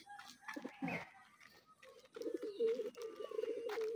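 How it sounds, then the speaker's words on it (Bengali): Pigeons coo in a pigeon loft, with low throaty burbling close by, several soft calls early on and then a longer run of rolling coos. "আমার 3-4টা কবুতর উমে বসে দিচ্ছে।"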